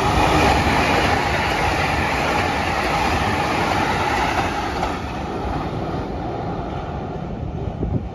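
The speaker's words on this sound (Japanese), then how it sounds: "今度は東海道線の上り列車が通過していきます。" An up Tokaido Line train rumbles past at Toyohashi as it crosses the Toyokawa river, a loud, continuous roar of wheels on rails that fades slightly toward the end.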